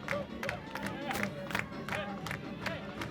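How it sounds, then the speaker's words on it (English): A crowd at a children's Christmas lane parade in South Gate cheers and claps, with scattered sharp handclaps and rising shouts forming a lively, continuous roar at moderate distance. "they're getting the crowd really excited now"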